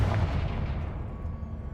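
A Confringo blasting spell explodes in Hogwarts Legacy, a heavy booming blast at the start whose rumble slowly fades away.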